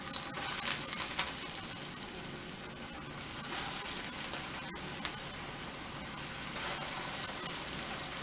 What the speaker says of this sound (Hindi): और इसे गोल्डन ब्राउन हमें डीप फ्राई करना है।